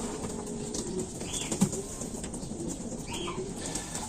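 A soft pigeon coo sounds faintly against steady background hiss and outdoor noise, with no voices.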